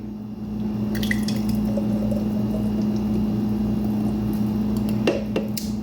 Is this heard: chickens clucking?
no